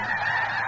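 A huge flock of snow geese at Bosque del Apache honks in a dense, continuous chorus, the overlapping calls blending into a steady wall of sound.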